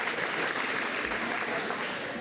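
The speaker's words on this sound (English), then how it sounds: "So give yourselves a huge, huge round of applause." Sustained applause from the crowd at a girls basketball banquet, a dense, even wash of clapping that holds steady throughout without voices standing out.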